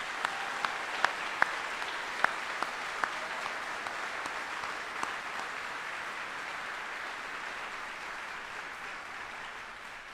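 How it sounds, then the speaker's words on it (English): Applause from the audience at an Army retirement ceremony honoring retiring soldiers: steady, dense clapping that fills the whole stretch, with a few sharper individual claps standing out near the start. "please join me in a round of applause for these 21 outstanding soldiers"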